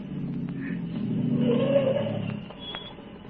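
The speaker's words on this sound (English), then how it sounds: "There was a car coming." A car engine rumbles and revs as a vehicle draws closer along the road, growing louder midway before easing off.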